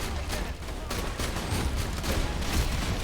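Dense, continuous enemy gunfire in Borderlands 2, a loud, steady barrage of overlapping rapid shots and blasts with no pauses, close and filling the whole stretch.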